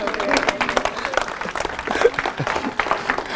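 A church congregation applauds and cheers in praise during a French-language sermon, dense continuous clapping mixed with crowd voices and shouts throughout.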